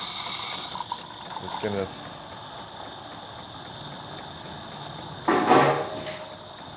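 A Jura Giga X7 coffee machine froths milk for a cappuccino, a sustained hissing, sputtering pump noise with a louder gush of foaming near the end, under brief talk.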